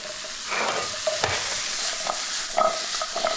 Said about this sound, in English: And gonna get that garlic in there now. I'll get those carrots in there.